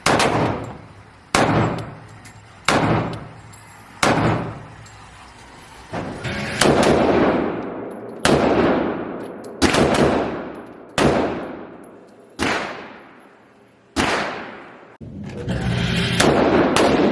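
Sig P245 pistol fired in a steady series of about a dozen loud, sharp gunshots, each cracking out and ringing briefly before the next, with no talking.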